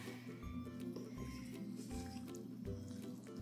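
Pancake batter is stirred with water in a cup, making wet squishing and dripping sounds in a repeating rhythm, close up, with faint background voices.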